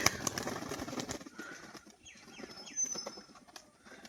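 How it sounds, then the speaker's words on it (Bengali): A male pigeon performs its display, with a burst of wing flapping and clattering at the start, then soft coos and faint rustling, nearby in a quiet space. "নর পায়রাটার বাজি দেখিয়ে দিই"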